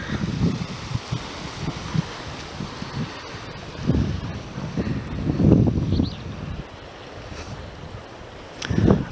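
Waves wash over a pretty rock beach at Louisbourg, rolling in uneven surges of surf and rattling stones, with gusty wind buffeting the microphone between swells.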